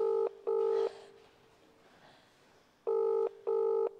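A telephone call rings out unanswered, giving two pairs of evenly spaced, loud electronic double rings separated by a quiet gap.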